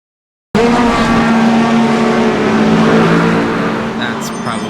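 Racing video game cars roar with steady, loud engine drone and shifting harmonic tones, with a brief high whine near the end.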